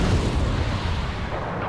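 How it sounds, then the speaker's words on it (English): Friendly artillery in the Wargame: Red Dragon strategy game lands close by, a loud continuous rumble of overlapping booming blasts that tapers slightly toward the end, with no voices. "Gotta stop that friendly artillery. That's way too close."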